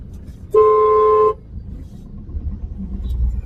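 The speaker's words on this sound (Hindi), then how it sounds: "वही डेली ट्रैफिक, और डेली ट्रैफिक से बाहर निकालो गाड़ी को।" Daily city traffic in Ahmedabad, with one loud, sustained car horn blast lasting under a second, followed by low road rumble from passing vehicles.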